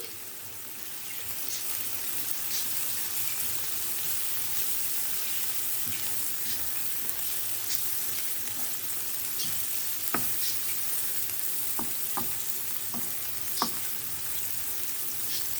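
Onions sautéing in a pan with chili flakes, red pepper powder and black pepper, giving a soft, continuous sizzle with occasional light spatula clicks and scrapes, no voices.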